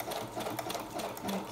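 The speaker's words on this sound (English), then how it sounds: "just hold that lace in place and then just, oops, stitch that down" A sewing machine stitches down a strip of lace, running as one steady, continuous whir close up for the whole stretch.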